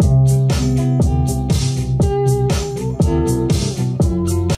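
A lofi hip hop instrumental recreating Post Malone's Circles plays clearly with a steady beat, punchy kicks, snare and hi-hat hits, and warm sustained chords and bass moving underneath.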